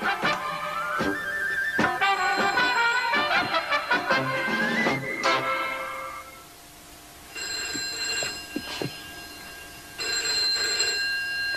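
An old-fashioned telephone bell rings in repeated bursts amid loud, busy music, then rings alone in two clear, steady trills toward the end.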